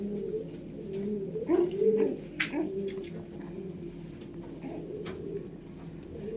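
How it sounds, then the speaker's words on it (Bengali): A loft of domestic breeding pigeons gives a steady low cooing drone nearby, swelling into a louder burst of throaty coos partway through, with a few sharp high chirps over it. "দেখুন এই লালশিরা পায়রা আর এদিকে কালশিরা পায়রা।"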